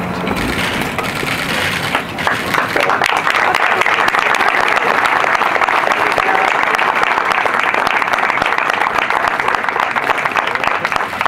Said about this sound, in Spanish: Y el aplauso de todas y todos los presentes